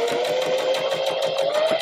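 A sewing machine running steadily while stitching pillow fabric, a fast even whirring chug with rhythmic needle beats, close and continuous.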